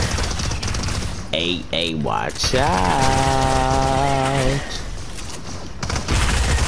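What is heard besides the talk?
gunshots in a video game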